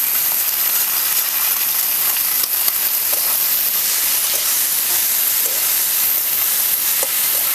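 Potatoes, peas and cauliflower hitting a hot pan, giving a loud, steady, hissing sizzle with faint stirring clicks, close up and continuous with no talking.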